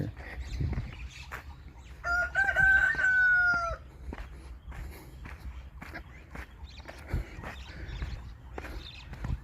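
A rooster crows once at mid-distance on a rural Thai farm with wild mango trees, a single drawn-out call standing clear over faint outdoor ambience and scattered footsteps.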